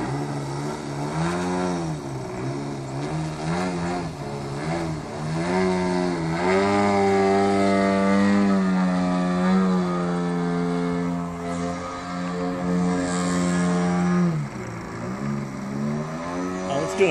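A 42% scale Hyperlite Slick 540 model airplane buzzing in flight, its gas engine droning loudly and steadily with rising and falling pitch as it maneuvers, including a slow knife edge pass.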